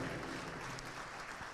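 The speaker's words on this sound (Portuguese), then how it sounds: "aplaudindo a Jesus, porque Ele é bom" A church congregation applauds during a worship service, a dense, even wash of many hands clapping together, fairly distant and quiet, with no clear voices over it.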